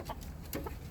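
Chickens cluck in a backyard, giving a couple of soft, short clucks, fairly faint against background noise.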